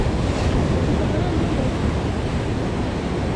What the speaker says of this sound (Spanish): Cuidado la ola.